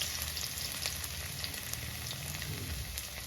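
Chopped ginger frying in hot oil in a pan for Kerala-style tuna curry, a steady close crackling sizzle with fine popping throughout and no talk.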